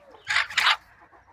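Hens in a yard near a puddle and water trough give two short, close clucking calls in quick succession over faint background noise.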